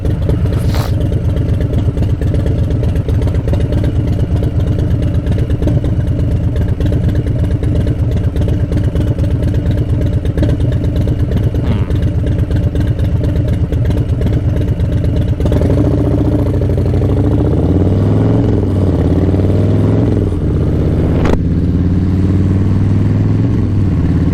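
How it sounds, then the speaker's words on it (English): A race motorcycle engine, running hot, idles steadily with a dense mechanical clatter, then rises and falls in several revs toward the end, close and loud with no talk. "this motor gets extremely hot. As you know, it's a race motor."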